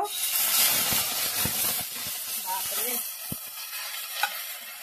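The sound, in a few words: ghetkol leaves frying in hot white oil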